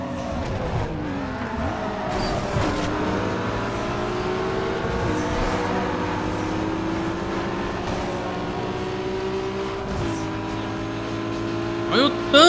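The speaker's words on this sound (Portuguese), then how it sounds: "Que ronco maravilhoso esse carro" A Nissan Skyline's engine roars in the racing video game Need for Speed Underground 2, revving and climbing through gears with steady high-pitched whine and a shift near the end, loud and continuous under a voice.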